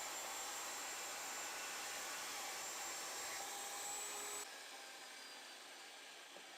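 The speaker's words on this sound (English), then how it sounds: "we're just going to go and cut down some more hickory here" Saw cutting through hickory wood for a sled runner, a loud, steady, high-pitched whine that runs continuously for several seconds, then drops off to a quieter hiss as the cut ends.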